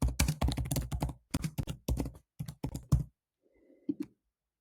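Rapid clattering keystrokes on a computer keyboard as a list name is typed, a dense close burst of clicks for about three seconds, then silence with a faint click near the end.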